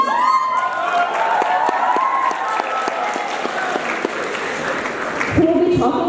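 Audience applause at an opening ceremony of a model UN conference, steady clapping from a large crowd filling the hall throughout, with a few scattered shouts near the end.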